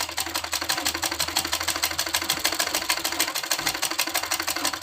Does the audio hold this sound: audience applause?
no